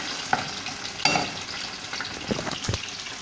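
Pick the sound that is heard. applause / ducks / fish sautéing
fish sautéing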